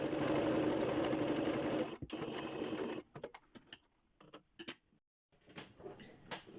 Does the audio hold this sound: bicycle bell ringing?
no